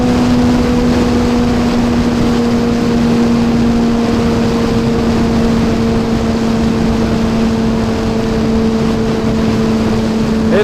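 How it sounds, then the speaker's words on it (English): Steady, loud wind roar buffets a rider cruising on a Kawasaki Z H2 motorcycle, a constant rushing blast over a low engine drone with a sustained tonal hum, unbroken throughout. "It's really windy today."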